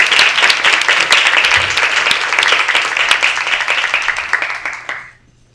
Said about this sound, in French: Oui, un applaudissement.